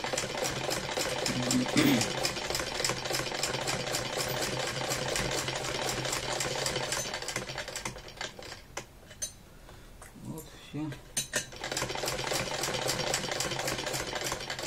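An electric sewing machine stitching a case for a vernier caliper runs in a steady whirring chatter for most of the stretch, pausing briefly near the end before resuming, with a few quiet spoken words over it.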